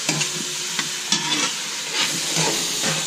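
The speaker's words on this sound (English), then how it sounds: "gather up all this delicious onions and garlic that's been frying up with the meat" Close, crackling sizzle of onions, garlic and steak frying, with short scraping stirs of a utensil against the pan.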